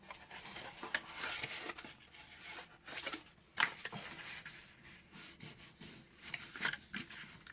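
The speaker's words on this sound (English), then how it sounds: "grabbing each one of the hinges and I'm folding it back and I'm folding it forward in order to actually fold the score lines" Paper album hinges are folded back and forth along their score lines, producing soft, close rubbing and creasing sounds with occasional sharper crinkles, quiet and continuous with no talking.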